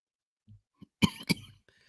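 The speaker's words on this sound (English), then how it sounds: "So if I cough, please bear with me." Two sharp coughs from a man with a cold, close together, a quick throaty burst each, near and clear, after a couple of faint soft sounds; no talking.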